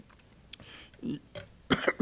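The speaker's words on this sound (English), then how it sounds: "Sorry for the coughing." A few short coughs and throat-clearing bursts, close and brief, separated by quiet gaps, during a city council meeting.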